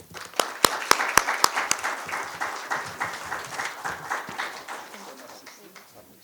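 A conference audience applauds at the Institute for Pan-African Thought and Conversation's event on the Chagos Islands, opening with a few sharp near claps that swell into steady clapping before gradually thinning out.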